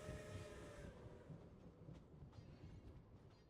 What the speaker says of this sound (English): And then I'm like, no, there's a train.